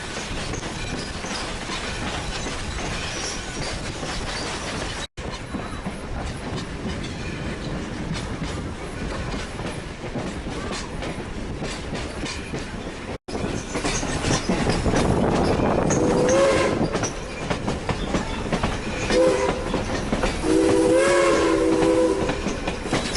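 A Black River & Western Railroad train picks up speed, rumbling steadily with rhythmic wheel clatter, growing louder and more intense partway through, with tonal squeals or horn-like notes rising near the end.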